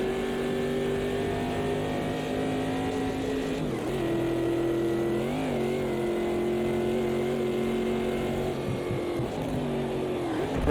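A classic Corvette C3 GT car at Bathurst in Automobilista 2, its engine droning steadily with loud sustained harmonics, dipping briefly on a shift or lift and rising again under throttle, with no talk.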